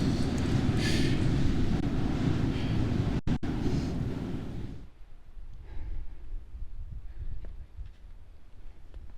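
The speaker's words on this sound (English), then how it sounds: "if you want a view out of the wind, which I'm sure you can hear" Strong wind roars and buffets near the summit of Black Elk Peak, loud and continuous for about five seconds, then dropping abruptly to a softer, gusty rush.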